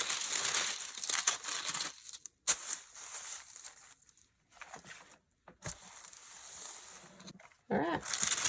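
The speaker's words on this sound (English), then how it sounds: "now I need to put another piece of butcher paper down" Butcher paper is laid down and handled during a craft project, making bursts of close crinkling and rustling separated by brief quiet pauses, with no talk.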